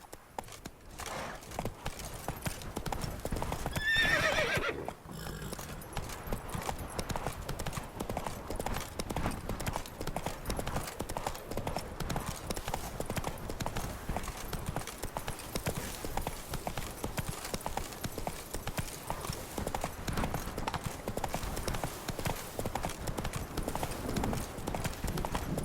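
Roach, a horse in The Witcher 3: Wild Hunt Blood and Wine, hooves clip-clopping in a steady, continuous rhythm close by for the whole stretch, with a brief breathy snort or whinny early on.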